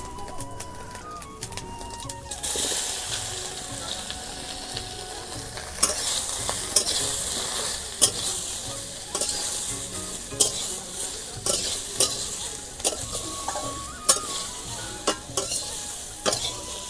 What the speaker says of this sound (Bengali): হালকা ফোড়ন দিয়ে খাড়াটা ভাজবো